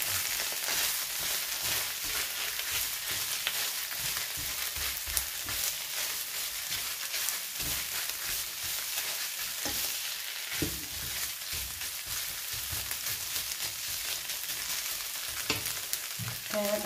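Tomato puree sizzles in a hot pan for a long stretch, a steady crackling hiss broken by occasional light scrapes of a stirring utensil.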